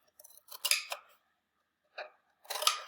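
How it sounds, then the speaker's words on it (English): Scissors snip slits into cardboard to form tabs, a few crisp close cuts in quick bursts, then a short single snip and another cluster of snips after brief pauses. "So I just have to take my scissors and I'm creating tabs going all the way around."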